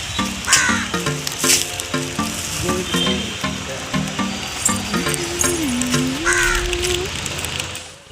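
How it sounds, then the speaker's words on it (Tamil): A flock of crows caws repeatedly in quick rhythmic bursts, close and loud, several birds calling over one another at a home. "பாருங்கள் எவ்வளோ காக்கா வந்திருக்குன்னு."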